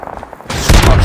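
Gunfire and explosions in the Call of Duty Mobile video game: a short burst of shots and blasts erupts after a quieter half-second, loud and close, with a faint voice near the start.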